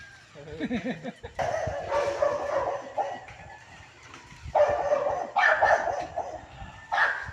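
Dogs bark and yip repeatedly at close range, excited overlapping barks with a whining sound at the start.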